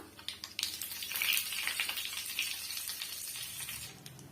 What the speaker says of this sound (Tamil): கடுகு சீரகம் எல்லாம் நல்லா பொரிஞ்சு வந்துடுச்சு